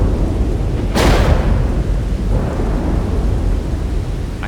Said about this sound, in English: within minutes the rain was pouring down